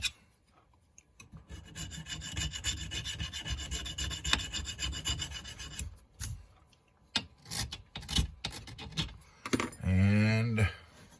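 Abrasive rubbing and rasping strokes on the finish of an AR rifle, in irregular bursts with brief pauses, close and fairly loud, ending in a short harsher scraping passage.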